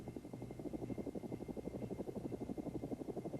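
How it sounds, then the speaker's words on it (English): A helicopter hovering over a cargo release site during a night signalling exercise gives off a faint, steady rotor chop with regular pulsing beats and no voices. "As the helicopter begins to hover over the cargo release site"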